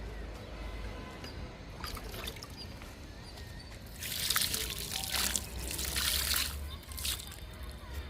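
Water is poured onto potted plants, including a tulsi, after the soil is loosened, a soft trickle building into louder splashing bursts, over low background noise.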